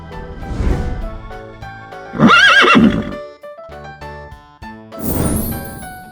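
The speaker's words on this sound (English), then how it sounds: "horse" A horse neighs loudly with a shaky, descending whinny in the middle of the clip, set between bright musical tones and plucked notes from a children's animal-name song.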